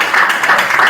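Brief, dense applause from an audience at an evening fireside chat, a full close wash of many hands clapping steadily with no voices standing out.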